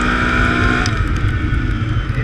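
A 2014 Can-Am Outlander 1000 ATV engine on a wooded trail, its continuous loud motor roar close by, with throttle pulses and a slight rise and fall in pitch and no talk.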